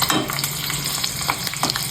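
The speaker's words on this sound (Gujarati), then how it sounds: "મરચા તરવાનું ચાલુ કરી દીધી" Chillies fry in hot oil with a loud, continuous crackling sizzle and repeated stirring scrapes, close by and without voices.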